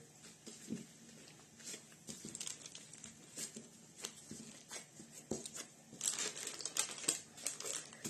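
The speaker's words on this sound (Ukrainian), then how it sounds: "Тепер будемо ось так замотувати в фольгу." Aluminium foil crinkles and rustles in close-up as a carrot roll is wrapped by hand, with irregular bursts of crumpling that grow louder toward the end.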